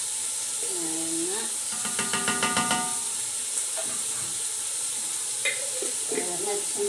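Garlic sizzles and fries in a pan while a utensil stirs it in a quick scraping burst, with a steady hiss continuing underneath; a voice talks briefly near the start.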